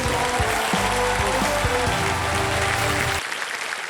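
Steady applause from a TV game show studio audience rolls over upbeat music. The music cuts out near the end while the clapping continues.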